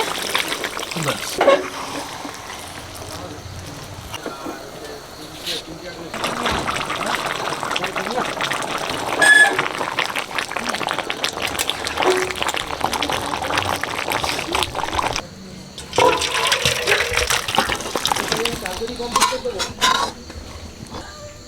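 Water poured into a pan of red chicken curry, splashing and trickling alongside clinks of pots and utensils, with someone talking over the kitchen sounds.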